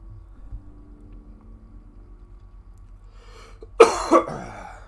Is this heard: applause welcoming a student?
no